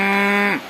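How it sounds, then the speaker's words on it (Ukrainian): A cow in a village in the Carpathian mountains gives a single loud, close moo with a steady tone that drops off sharply at the end. "Це корівка рада мене бачить."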